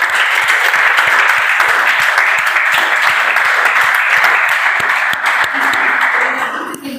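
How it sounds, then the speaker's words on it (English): Toastmasters club audience at a milestone meeting celebration bursts into loud, sustained, dense applause with a steady clapping pulse up close, easing off at the very end. "Let's have a huge round of applause."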